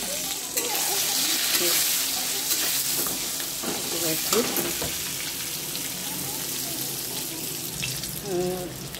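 Eggplant sizzling and frying on high flame for a curd brinjal dish, a continuous loud crackling hiss with occasional stirring scrapes, close and steady throughout.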